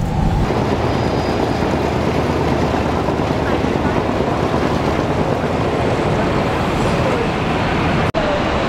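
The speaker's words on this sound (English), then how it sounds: "Taking the final bus to the cruise ship" Steady loud rumble of a city bus riding through Hong Kong traffic on the way to the cruise ship terminal, engine and road noise continuous throughout with a brief sharp knock near the end.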